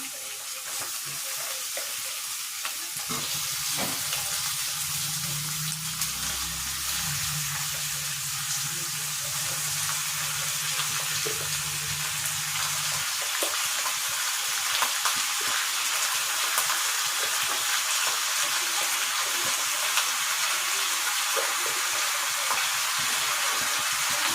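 Chicken pieces for chicken sukka sizzle and fry loudly in a hot pan, a steady broadband hiss with occasional scraping stirs throughout, and a low hum in the middle.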